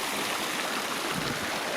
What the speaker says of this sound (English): That water noise is this fountain.